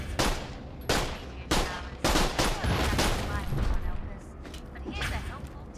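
Loud gunfire aimed at a statue in Borderlands: The Pre-Sequel, a series of sharp blasts and rapid bursts spaced across several seconds, with people talking underneath the shooting.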